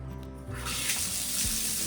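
Water gushes from an old shower tap in a resort room, starting as a low trickle and swelling after half a second into a steady, loud rushing flow with no talk.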